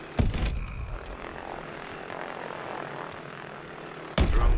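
Buzzing rotor drone of a flying drone in Call of Duty Advanced Warfare, a steady airy whir between two heavier thumps at start and end, moderately loud with no talking.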